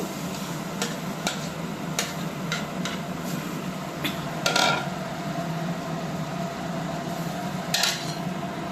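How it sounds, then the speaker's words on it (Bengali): A spoon stirs ground pea paste in a pan with scattered metallic clinks and scrapes over a steady background hum, including a couple of louder knocks near the middle and toward the end. "মটরশুঁটিটা মিক্সচারে পেস্ট করে নেওয়া হয়েছে, তা আমি একটু নাড়াচাড়া করে নেব"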